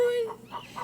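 Short hen clucks on a children's-show farmyard, a few soft bursts close together, with a voice starting to speak just before them.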